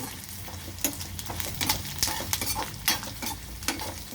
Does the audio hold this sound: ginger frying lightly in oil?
yes